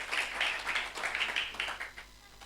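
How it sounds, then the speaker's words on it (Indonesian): A church congregation at a Sunday worship service claps for God in a quiet, somewhat distant round of clapping that fades out near the end. "tepuk tangan dong buat Tuhan"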